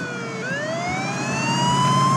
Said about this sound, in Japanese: 消防車も来てくれたようです。